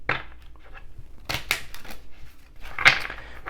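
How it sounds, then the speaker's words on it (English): A tarot card deck being shuffled, making a few crisp, papery riffling bursts close by with quiet gaps between them and no talking. "Let's do some shuffling."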